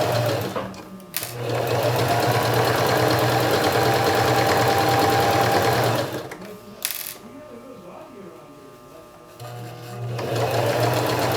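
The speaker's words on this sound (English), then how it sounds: "I'll switch the machine back to straight stitch and do a 1/2 inch seam" A sewing machine runs a straight-stitch seam in steady, fast whirring bursts, stopping briefly in the middle with a few clicks before starting up again, close and loud.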